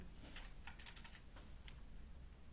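Quick, faint taps of fingers on a computer keyboard, a short run of clustered keystrokes near the start followed by a few isolated clicks, over a low background hum.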